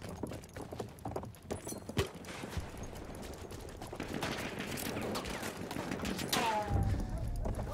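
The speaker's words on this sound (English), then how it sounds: "Tank and the horsey." Horse hooves clip-clop in a Battlefield 1 trench-raider match, mixed with bursts of gunfire and the mechanical noise of a tank, all loud and busy over a few seconds.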